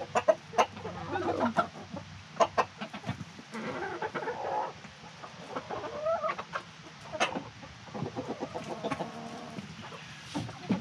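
Chickens cluck steadily inside a coop, several birds overlapping in a busy, fairly close chorus with sharp individual calls throughout and no talking.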